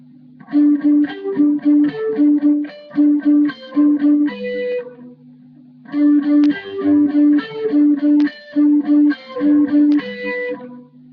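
Lead guitar with an effects-processed, lightly distorted tone plays a worship song's chord shapes over a sustained drone note, in two repeated phrases with a short pause between them and no talking.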